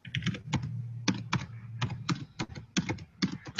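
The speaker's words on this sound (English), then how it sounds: "I'm typing that out right now" Keys clatter on a computer keyboard in quick uneven bursts of close, crisp clicks, with a low hum underneath and no talking.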